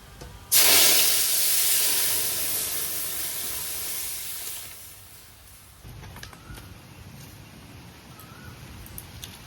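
Dal poured into a hot tempering of black mustard seeds bursts into a loud sudden sizzle and hiss of steam that slowly fades over several seconds, leaving quieter bubbling.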